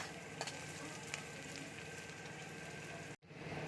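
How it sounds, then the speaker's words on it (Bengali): Food fries in a pan with a little salt for an Afghani omelette, a soft, even sizzle with a few faint pops, cut by a brief silence near the end. "একটু নুন দিয়ে দিচ্ছি, দিয়ে এটা আমি ভালো করে ভেজে নেব"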